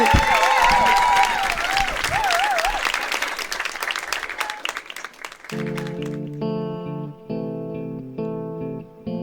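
Loud applause and crowd noise for a singer, filling the first half with sung tones over it, then giving way to a sustained chorus-like vocal and music passage.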